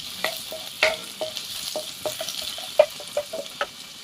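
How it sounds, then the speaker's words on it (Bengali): Chopped ginger and garlic stir in hot oil for a vegetable soup, with a quiet sizzle under a series of distinct spatula taps and scrapes against the pan, about a dozen light knocks spread unevenly. "তেলটা গরম হয়ে গেলে একটু আদা কুচি, রসুন কুচি দিয়ে হালকা একটু নাড়াচাড়া করে"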